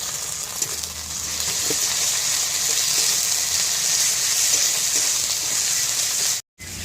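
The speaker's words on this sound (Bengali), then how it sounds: "এবার দিয়ে দেবো বেটে রাখা আদা আর রসুন আদা রসুন বাটাটা দিয়ে কিছু সময় কষিয়ে নেবো" Ginger garlic paste sautéing in oil with fried onions for a mahua fruit curry, giving a steady, close sizzle and frying hiss with faint stirring clinks that cuts out briefly at the end.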